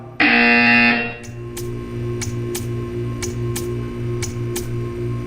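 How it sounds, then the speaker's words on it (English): A buzzer from the video game Portal 2 blares as a single loud, sustained tone lasting about a second. It gives way to a quieter steady hum marked by evenly spaced ticks. "When you hear the buzzer, stare at the art."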